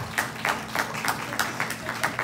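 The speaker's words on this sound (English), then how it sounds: "So we're going to vote here by a little clapping." A small audience at a retirement skit claps for a voting contestant, a thin, brief burst of hand claps with rhythmic peaks, fairly faint and not very full.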